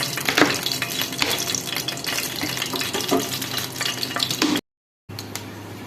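Onions frying in mustard oil in a pan, a steady close sizzle with stirring scrapes and clinks running throughout, broken by a brief gap near the end.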